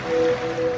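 Ocean waves used as a sound effect in a radio advert wash in as a soft, steady surf hiss with a faint sustained tone over it, brief and without speech.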